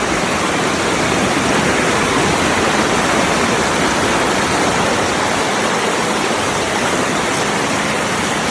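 A small stream at the Attayar river crossing on a forest trek to Agasthyarkoodam rushes in a steady, loud, unbroken wash of flowing water, close by, with no voices.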